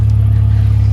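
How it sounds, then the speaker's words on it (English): BMW E46 330i with a chopped-off exhaust, its engine giving a steady, loud, deep idle rumble heard close by for under a second, with no voices. "It's got a chopped off exhaust."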